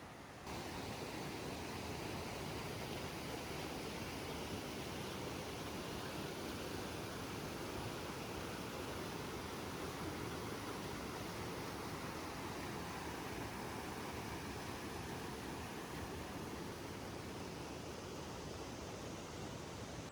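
Big Creek waterfall pouring as a steady, dense roar of falling water, loud and unbroken for the whole stretch, with no voices over it.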